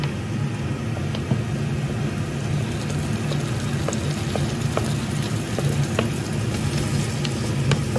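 Onions and tomatoes fry in a pan with a loud, dense, unbroken sizzle up close, sprinkled with small pops and faint clicks throughout.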